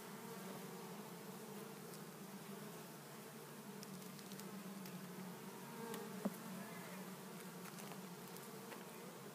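Low, steady buzzing of many bees, fairly quiet and continuous, with occasional faint clicks and no voices.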